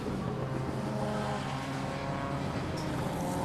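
Porsche 944 ES2 and a small pack of other race cars at the Euromarque series, engines droning steadily and loudly with layered harmonic tones as the group runs close together on the circuit.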